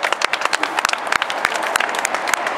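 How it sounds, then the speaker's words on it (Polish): A crowd claps in steady, lively applause to welcome a new rifleman at a Polish riflemen's oath and promotion ceremony, many hands beating together close and loud with no talk. "Przywitajmy oklaskami"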